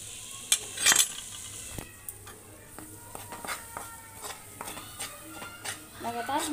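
Besan roasts in hot ghee in a pan over low flame, with a spatula stirring and scraping and a few sharp metallic clinks, all quiet and close with only a faint sizzle.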